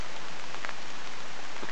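Rain falls on a pond after hours of downpour, a soft, even hiss of drops with a few faintly distinct splashes, steady and unaccompanied by voices.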